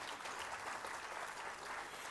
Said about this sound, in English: Why don't we just give him a huge round of applause?